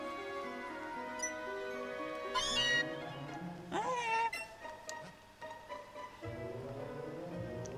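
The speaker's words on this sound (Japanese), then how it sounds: "お、いたいた、にゃーす" Meowth gives a short cry in Pokémon Let's Go, a couple of rising and falling meow-like calls over looping game music, with someone talking softly at times.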